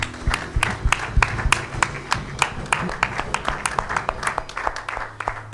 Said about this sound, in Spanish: Dan un aplauso a nuestro Señor, mis hermanos